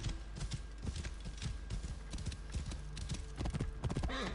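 Horse hooves clip-clop in a steady, close rhythm through Assassin's Creed Origins, a video game, with a brief whinny near the end.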